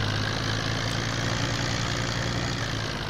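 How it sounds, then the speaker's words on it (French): A tractor engine idles steadily in Farming Simulator 15 on a Czech Valley map, a continuous loud low hum with a constant mechanical drone and no break across the whole stretch. "c'est le tracteur qui fait un petit peu de bruit"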